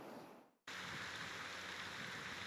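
Steady rain pours on an outdoor golf course in Sarreguemines, a dense hiss that starts abruptly after a brief quiet fade and continues evenly.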